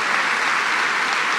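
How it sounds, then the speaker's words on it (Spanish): Church congregation applauding a preacher's call, a dense, steady wash of many hands clapping together, loud and continuous with no voices over it. "Denle un aplauso al Señor Jesucristo."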